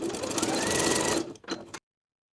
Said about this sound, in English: I'm going to sew a couple more security stitches at the center back, stitching right on top of the main seam line